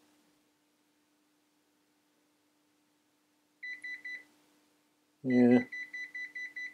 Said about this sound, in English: it beeps away and the little light flashes when you're close to it fairly